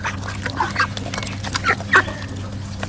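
Chickens, including a black hen, clucking softly with a few short calls over a steady low background hum, near and fairly quiet.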